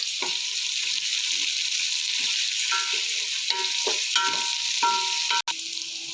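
Green chillies sizzle loudly with onions in hot oil for mutton biryani, a steady close frying hiss broken by several scraping stirs of a spoon against the pan.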